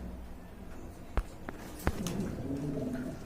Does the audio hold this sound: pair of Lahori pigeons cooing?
yes